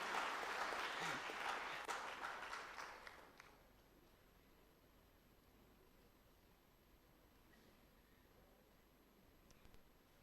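An audience applauds to welcome a guest at a Madhya Pradesh tribal youth training event, with fairly loud clapping for about three seconds that fades quickly, followed by a long stretch of quiet room noise.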